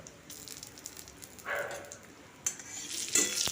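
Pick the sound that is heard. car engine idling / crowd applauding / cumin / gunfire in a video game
cumin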